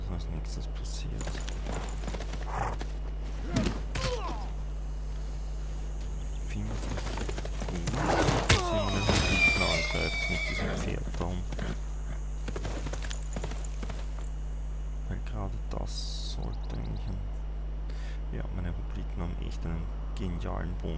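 Horse hooves clip-clopping in Civilization VI, a series of crisp hoof clicks and scattered game effects over a steady low hum, with a brief burst of busier activity midway.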